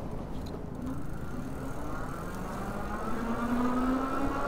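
An electric bike rated around 70 mph accelerates from a standstill to top speed on throttle alone, a steady motor whir climbing in pitch throughout under heavy wind rush.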